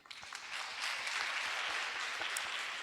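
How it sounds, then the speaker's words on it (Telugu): Congregation applause at a church festival service, a dense, steady crowd of hands clapping together across the whole span, moderately loud and fairly close, with no talking over it. "నమ్మినోళ్ళు చప్పట్లు కొట్టండి"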